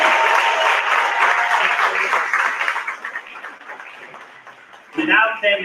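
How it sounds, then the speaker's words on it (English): A school science symposium audience applauds, a dense burst of clapping that thins and fades over several seconds before a voice begins speaking near the end. "Give them a round of applause"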